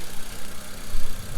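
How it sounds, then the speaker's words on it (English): A Hyundai Genesis Coupe bought wrecked from Copart runs with its engine idling nearby, a loud, steady low rumble with slight pulsing throughout and nobody talking. "Engine running."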